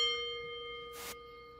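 A single bell rings out clearly with a bright, sustained metallic tone that slowly decays, alongside a short burst of noise midway, at the start of a wrestling talk show.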